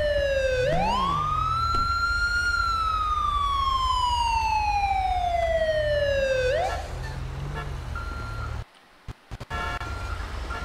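A fire engine siren in the video game GTA V rises and then slowly falls in one long loud wail before cutting off, followed by a low rumble and brief dropouts.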